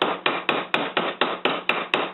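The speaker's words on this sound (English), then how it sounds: "This is a ball peen hammer." A ball peen hammer strikes metal in a steady peening rhythm, about nine sharp ringing blows spaced roughly a quarter second apart, close and loud with no talk.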